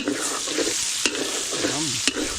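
Onion and garlic sautéing in a pan with steady sizzle, stirred by a utensil that knocks sharply against the pan about twice and scrapes between, close and alone with no voices.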